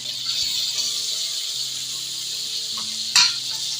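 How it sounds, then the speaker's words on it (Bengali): Tomatoes fry in a pan of oil with spices for a fish curry, making a steady, moderate hiss over a faint tonal hum, broken by one brief clatter near the end. "টমেটোটা ভালো করে ভেজে নিয়ে এতে আমি লঙ্কা গুঁড়ো, হলুদ গুঁড়োই অ্যাড করবো"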